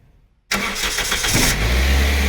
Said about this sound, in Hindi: चल भाई गाड़ी स्टार्ट कर।